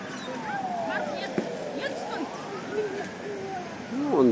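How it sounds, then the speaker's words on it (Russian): Ambulance siren sweeping past along a city street, its rising and falling wail sliding in pitch as it passes, heard over general street noise and someone talking nearby. "Куда-то скорая мчится."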